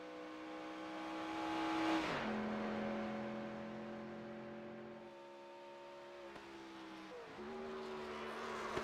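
Race cars on the Pocono speedway during a warm-up lap in a Next Gen Old School Series race, engines droning steadily at a distance with pitch shifts as cars pass and gear changes, no voices.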